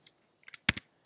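Keys tapped on a computer keyboard during project setup in Korsakow software: a few sparse, light clicks, then two louder close strikes of the enter key, and one more click near the end, all near and with no talking.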